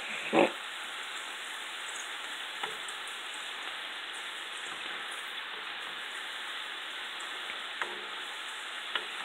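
Onions and bologna fry on high heat, giving a steady, soft sizzle throughout with a few sharp crackles and pops.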